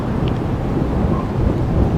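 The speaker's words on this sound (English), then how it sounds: "With the rain being absolutely relentless" Relentless rain on a mountain hike makes a dense, steady roar of heavy downpour with a low rumble. It is loud and close, with no voices.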